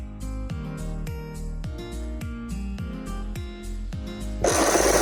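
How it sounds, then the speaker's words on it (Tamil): A sewing machine stitches the open seam of a frock in a steady mechanical run, fairly close, with a rhythmic hum and evenly paced needle strokes that end in a louder burst of noise. "இது வந்து மேலே நல்ல பக்கம் கொடுத்து தான் இப்போ நம்ம தைக்க போகிறோம்"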